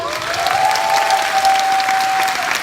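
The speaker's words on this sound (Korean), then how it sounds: "우리 큰 박수 주세요" A seminar audience claps warmly in a hall, a steady wash of many hands, with a sustained tone humming faintly beneath the applause.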